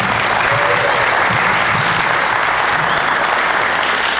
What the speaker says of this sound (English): everybody give a big round of applause for Michael.